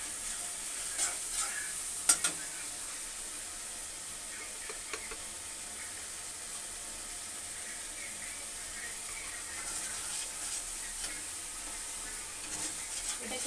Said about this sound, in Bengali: এটাকে আপনারা একটু মশলাটাকে ভালোভাবে একটু ফ্রাই করবেন